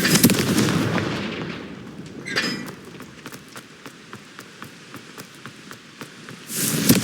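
A Confringo spell exploding in the game Hogwarts Legacy: a heavy blast opening with a sharp burst, then a spray of crackling debris ticks, and another loud impact near the end.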